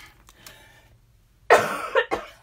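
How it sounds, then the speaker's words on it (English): A person coughs in a close indoor room at a holiday gift-wrapping craft table, a loud burst of two or three harsh coughs after a quiet stretch. "Sorry about the coughing"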